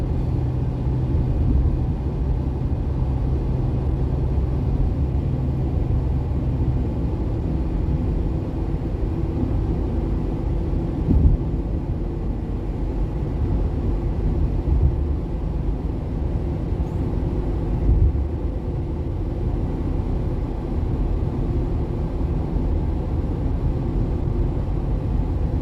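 Steady traffic on the I-40 highway near the Tennessee–North Carolina border, with construction nearby, makes a continuous broadband rumble of passing vehicles from moderate distance, with faint swells and no talk.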